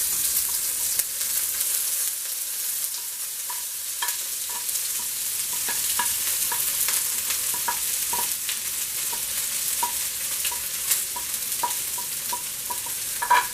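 Onion, shadabeni and cilantro stirred into a hot pot, for an Alfredo Parmesan pasta: a steady close sizzle with repeated light scraping clicks from the stirring, continuous and even throughout, with no talk.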